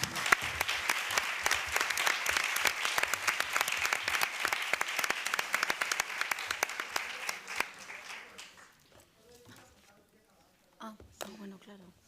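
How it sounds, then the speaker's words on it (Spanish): A room full of people at a technical conference applauding, sustained dense clapping that fades out around the eighth second, leaving scattered voices and a few stray claps. "nada más, un aplauso."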